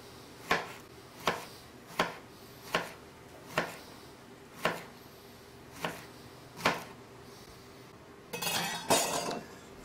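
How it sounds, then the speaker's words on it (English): A knife chops through leek on a cutting board for bacon and seafood chowder, giving about nine sharp, evenly spaced knocks at close range, then a short burst of quicker, busier cutting at the end. "just come back to this leek now and just keep chopping it."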